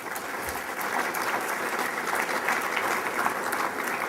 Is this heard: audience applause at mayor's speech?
yes